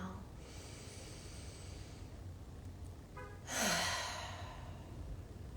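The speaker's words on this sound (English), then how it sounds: "Let's close with 3 breaths. Exhale. Inhale." Slow, deep breathing during a closing relaxation exercise: a quiet drawn-out breath early on, then a louder, airy exhale that swells and fades, close to the microphone.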